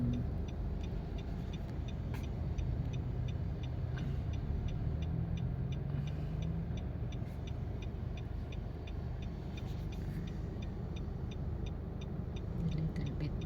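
Road traffic in Cagayan de Oro, heard as a steady, continuous rumble of passing cars and motor vehicles with no pauses and no clear talk.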